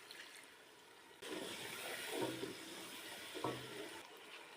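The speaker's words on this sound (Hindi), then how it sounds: "थोड़ा सा पानी शामिल करेंगे।" Water poured into a pot of beef biryani masala, a soft hissing splash that starts abruptly and runs a few seconds with small gurgles, fairly faint and close, no talk.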